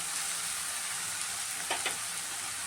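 Grated potato, cabbage and capsicum sizzle steadily in a hot pan, a continuous close frying hiss with a couple of brief stirring scrapes near the end and no voices.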